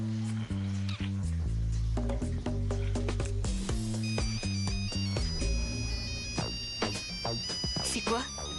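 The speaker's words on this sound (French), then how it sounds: "C'est un téléphone" A telephone ringtone plays in a domestic scene, bright repeating electronic tones under a music bed and brief speech, the ringing growing more prominent in the second half.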